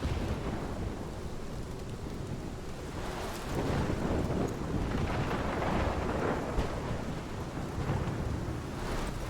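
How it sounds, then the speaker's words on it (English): A thunderstorm in the video game Life is Strange at a lighthouse: heavy, continuous rain and gusting wind with low rolling thunder swelling midway, loud and enveloping, with no talk. "And here is the storm."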